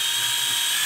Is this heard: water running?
no